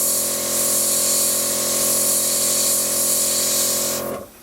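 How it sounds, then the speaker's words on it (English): An airbrush sprays paint while pre-shading a Megatron model, a steady close hiss with a faint tonal whine under it, cutting off abruptly near the end. "I need to clean the airbrush"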